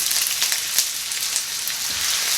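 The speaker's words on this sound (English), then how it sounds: "So we're gonna put in some olive oil, some crushed garlic, and some onions." Crushed garlic and onions sizzle in hot olive oil, a loud, dense, continuous crackling hiss that holds steady without pause and with no talk.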